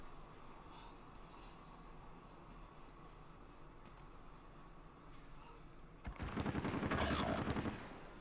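Video game gunfire comes through as a quiet rumble for several seconds, then a louder burst of rapid shots near the end, with no talking.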